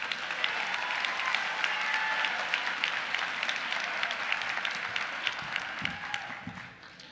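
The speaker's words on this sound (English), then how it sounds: "Please give yourself a round of applause for those in the audience" Dense, sustained applause from a graduation ceremony audience fills a large hall, many hands clapping at once in a steady wash that holds level before tapering off near the end.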